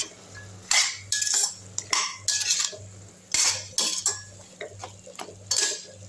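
A spoon scrapes and clinks against a pan as masala and vegetables are stirred for a drumstick flower and drumstick stir-fry, repeated close scraping strokes in an irregular rhythm with no talking.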